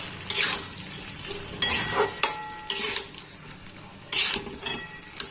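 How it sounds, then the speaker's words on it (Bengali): Half-boiled potatoes stir-fried in a pan for spinach dhoka, with four loud bursts of scraping and stirring over a soft, steady sizzle, each stroke sharp at first and then trailing off. "আলুগুলো একদম সেদ্ধ করাই আছে, হাফ, সুতরাং বেশিক্ষণ আর লাগবে না। এবার ভালো করে কষিয়ে নেবো আবার।"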